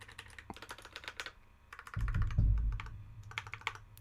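Typing on a Drop ALT High-Profile 65% mechanical keyboard, producing quick bursts of deep, thocky key clacks in short runs, with a heavier thump of a stabilized key in the middle, close up and alone.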